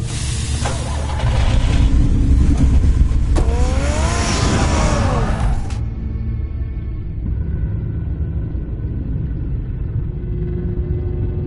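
Batman's car in a Batman video game revs loudly, a deep rumbling engine with a rising whine that builds then drops, settling into a steady low idle rumble that continues to the end.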